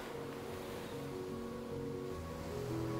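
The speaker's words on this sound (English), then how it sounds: "I hear the ocean." Ocean surf on the stormy coast of Maine rolls in as a faint, distant, steady wash of broadband noise with low rumble, swelling slightly toward the end.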